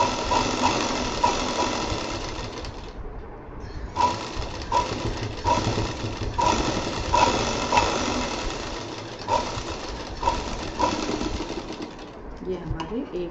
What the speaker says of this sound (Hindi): यहाँ पे हमें डबल सिलाई चलानी होगी